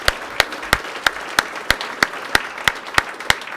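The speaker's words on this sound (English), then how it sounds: "a round of applause." An audience applauding at a charity auction. The clapping is sparse and regular, about three sharp claps per second, close and fairly loud, with no talking.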